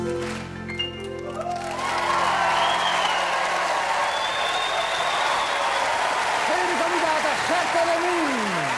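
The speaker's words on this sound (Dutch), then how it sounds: "Een applaus, hè?" A live audience bursts into sustained applause and some cheering as a Dutch song ends, the clapping loud and steady after the fading music, with a voice faintly heard over it.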